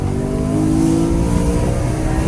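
BMW E92 M3 Competition Pack revving hard under acceleration on wet, slippery roads, a steady, loud engine drone heard from inside the cabin with road and tyre noise around it.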